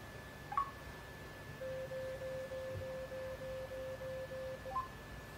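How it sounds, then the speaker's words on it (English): An Apple Watch with Water Lock ejects water with a steady run of soft, rapid pulsing beeps lasting several seconds, bracketed by brief clicks and a closing tone. "then beeping, and suddenly one loud beep that indicating that WaterLock has been switched off or turned off"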